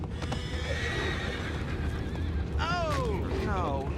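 Horses whinny loudly in the Red Dead Redemption 2 video game, a long neigh followed by a sharper one, over hoof clops and steady background rumble with talk nearby.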